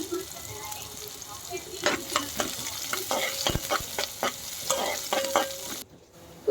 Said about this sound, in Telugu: ఇంకా కట్ చేసి పెట్టుకున్న ఆనియన్స్ కూడా వేస్తున్నానండి.